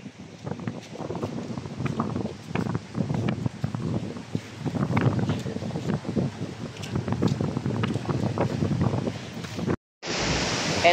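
Sea waves wash steadily onto the beach at Baler, Aurora, a broad continuous roar of surf with gusting wind buffeting the microphone, loud and close throughout with a brief cut near the end.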